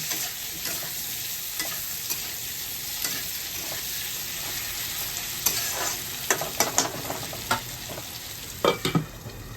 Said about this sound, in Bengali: এবার এটা আমি ভালো করে একদম লাল করে ভেজে নেব।